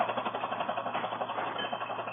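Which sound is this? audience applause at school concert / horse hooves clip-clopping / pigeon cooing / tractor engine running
tractor engine running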